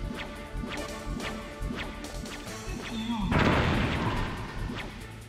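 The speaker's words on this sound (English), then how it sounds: "Ah, les grenades, ça c'est sûr de marcher." A grenade explosion in the stealth video game Metal Gear Solid: a string of sharp whip-like cracks and thuds, then a loud, broad blast that swells and slowly fades, with a voice talking over it.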